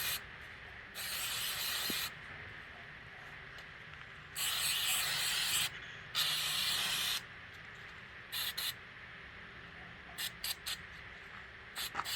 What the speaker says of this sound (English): I just spray it on and rub it in a little bit.